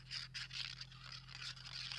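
A Stampin' Up multipurpose glue fine-tip bottle, nearly empty, sputters and spits air in quick, faint hissing bursts at close range.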